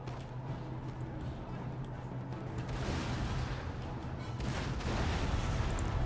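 Artillery batteries fire in the Napoleonic-era strategy game Napoleon Total War, with Great Britain's guns engaging: a dense, continuous rumble of distant cannon and musket fire under a steady battle din, swelling louder toward the end as a voice talks over it.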